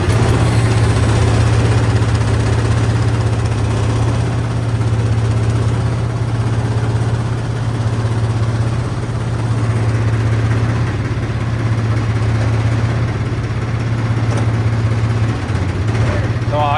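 A vehicle engine idling after a starter crank, with a steady low drone and a strong continuous rumble throughout while people talk nearby.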